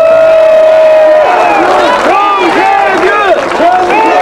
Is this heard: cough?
no